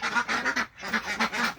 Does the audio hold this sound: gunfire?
no